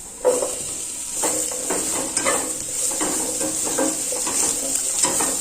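Chopped capsicum sizzles in masala in a pan while a spoon stirs it, giving a steady frying hiss broken by repeated scraping and clinking strokes, close and with no talk.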